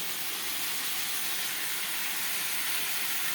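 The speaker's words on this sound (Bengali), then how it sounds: "ঢেলে দিলাম মশলাটা, এখন একটু ভালো করে কষাবো।" Masala poured into a hot pan for a katla fish and cabbage curry gives off a loud, steady sizzling hiss that holds evenly from start to finish with no voices.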